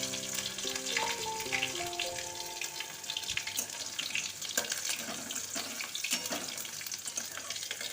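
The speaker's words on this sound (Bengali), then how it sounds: "তো রসুনটা একটু তেলের মধ্যে নেড়ে একটু ব্রাউন কালার হয়ে গেলে" Crushed garlic with black cumin frying in oil, a broad steady sizzle lasting several seconds, with a few tonal background notes early on and no voices.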